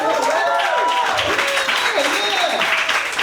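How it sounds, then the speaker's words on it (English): A crowd at a comedy night celebrating Nigerian independence breaks into loud, sustained applause, while a performer keeps talking over the steady roar of clapping. "Clap it up for Nigerian independence."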